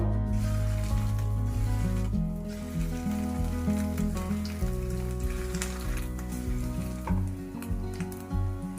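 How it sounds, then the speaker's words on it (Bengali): Fish roe fritters fry in hot mustard oil with a steady, close sizzle that runs throughout beneath loud melodic background music. "এবার আমি মাছের ডিমের বড়াগুলো এক এক করে ভেজে নেব।"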